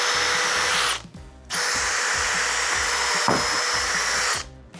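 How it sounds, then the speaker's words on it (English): A power drill bores holes in boards, running in two long high-pitched whining bursts separated by a short pause, loud and close. "draw some lines so we know where we need to drill some holes"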